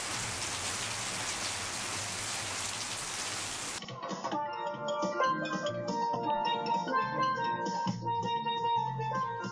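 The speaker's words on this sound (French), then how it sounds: "L'îlot Gosier, un jour de pluie." Rain pouring on L'îlot Gosier, a small islet off Guadeloupe, a dense steady hiss of drops for a few seconds before cutting abruptly to music.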